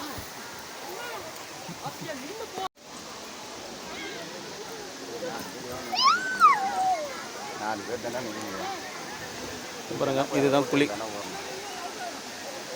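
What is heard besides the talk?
water flowing at Kovai Kutralam waterfall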